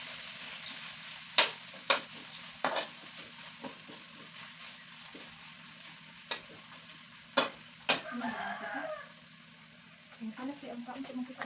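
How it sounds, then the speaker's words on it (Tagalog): Onions fry in oil, sizzling steadily in a pan, with several sharp clacks of a utensil stirring and scraping, and a soft voice briefly underneath. "dyan ko iluluto yung isa pang bombay na hinihiwa-hiwa ko"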